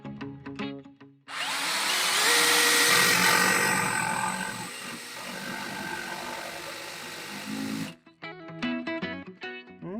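DeWALT DCD703 cordless drill with an eccentric offset attachment driving a screw in one sustained, loud whirring run of several seconds, with quieter clicks and handling noise before and after.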